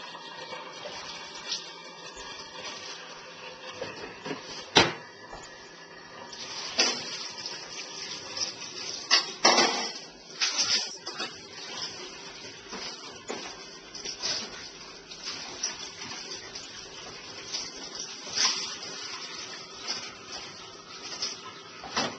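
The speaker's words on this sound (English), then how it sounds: "We're just going to clean the surface as well, and clean the sink." Running water and scrubbing while a kitchen counter and sink are wiped down after making green juice, a steady splashing hiss with scattered knocks and a sharp clack, no talking.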